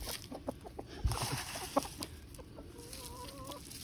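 Hens clucking in a backyard roost during morning chores, a few scattered clucks and a drawn-out trilling call near the end, moderately close against low background noise.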